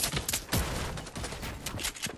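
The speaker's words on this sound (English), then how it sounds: "I'm getting shot." Rapid gunfire in the shooter game Bandolier, a dense burst of repeated shots crackling close and loud throughout with no pause.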